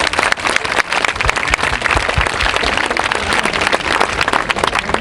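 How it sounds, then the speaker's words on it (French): A crowd claps loudly and steadily, a thick wash of applause that holds at full strength throughout. "Dominique Dor, que je vous demande d'applaudir très fort."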